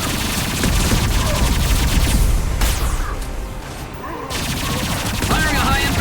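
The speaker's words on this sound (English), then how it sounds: "Firing a high-impact shot." Dense rapid gunfire and bursts from a Mass Effect 2 battle on Tuchanka, loud and continuous with booming impacts, under brief shouted combat voices.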